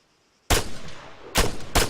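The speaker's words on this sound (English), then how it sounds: "When you're ready, put some rounds down range" Rifle gunfire in ARMA 3 from a sergeant firing downrange while kneeling: three sharp loud shots, the first after a brief silence, then two more spaced close together, each with a short echoing tail.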